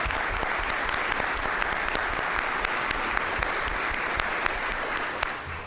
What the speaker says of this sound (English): Please give a round of applause to signify this achievement.